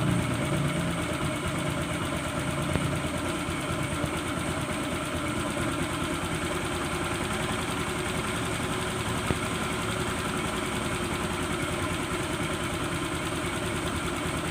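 A motorcycle engine with its cover fitted idles at low revs, a steady muffled rumble with a faint knocking texture that holds evenly throughout, close by and alone.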